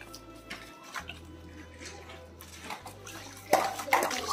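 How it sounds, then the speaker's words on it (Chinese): Water runs and splashes while zongzi bamboo leaves are washed, a quiet trickle and patter with faint clinks that swells into louder rushing near the end, over a low steady hum. "现在开始洗这个粽子叶"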